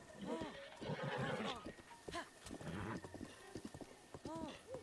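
Hooves clip-clop steadily and a horse whinnies in Zelda: Breath of the Wild, with game music and someone talking over the riding.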